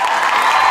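Dense clapping from a large summer theatre crowd in Heinola, a steady broadband wash of applause close and loud throughout with no pauses.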